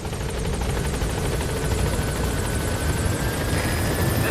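The Pequod helicopter from the video game Metal Gear Solid V arrives at a landing zone, its rotor making a loud, continuous, rapidly chopping roar that fills the whole stretch.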